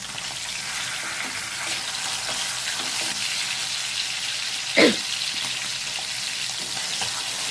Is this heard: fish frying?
yes